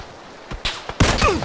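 Gunshots in PlayerUnknown's Battlegrounds: a few sharp cracks, the first ones fainter and more distant, then a louder close blast followed by ringing echo.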